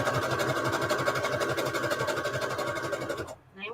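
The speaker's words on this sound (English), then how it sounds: "And I'm going to do a little bit of back stitching." A sewing machine back stitching fabric runs in a fast rhythmic mechanical chatter close by, then stops abruptly near the end, leaving a brief soft rustle.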